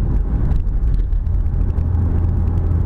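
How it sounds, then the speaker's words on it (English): A 2013 Mitsubishi Lancer Evolution GSR is being driven, and inside the cabin the road noise is a continuous, loud, low-pitched rumble with a faint hiss of tyres above it, steady throughout. "so I'll start with the road noise"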